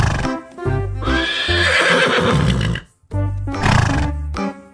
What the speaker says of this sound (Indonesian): kita menemukan hewan mainan kuda teman-teman